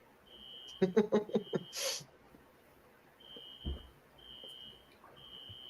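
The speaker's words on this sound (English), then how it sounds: "Only JPO can fall asleep during a smoke alarm" A high electronic smoke alarm beeps in a steady repeating pattern, fairly faint and indoors, broken by a burst of snorting or sneezing noises.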